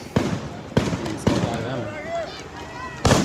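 Tear gas canisters explode in street protest footage as several sharp, booming bangs spaced about a second apart, with a voice talking between them.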